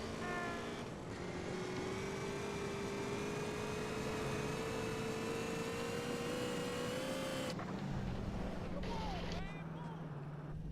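Steady engine drone from a car in a video game driving toward Fallow Bridge, with rising pitch as it accelerates, then a shift near the end with a few brief squeals; no talking.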